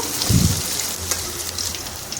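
Carrot pieces sizzle in a hot pan with a pinch of salt, a steady close-up crackle with a brief heavier scrape of stirring near the start.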